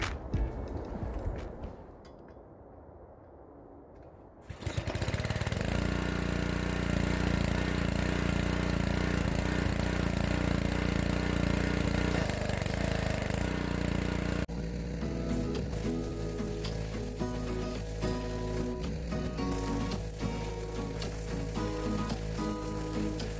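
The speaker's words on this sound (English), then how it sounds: "hopefully do all the pressure washing we need to do" A pressure washer runs steadily with a loud, broad hissing spray while cleaning a wooden deck, starting after a few quiet seconds and continuing strongly to the end, its tone shifting partway through.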